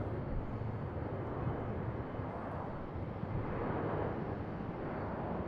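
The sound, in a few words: Alaska Airlines plane departing for Seattle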